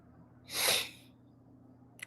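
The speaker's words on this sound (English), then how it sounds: "Sorry, I'm blowing my nose." One short, forceful nose blow bursts out in a single breathy rush lasting about half a second, close and fairly quiet, followed by near silence and a faint tap at the end.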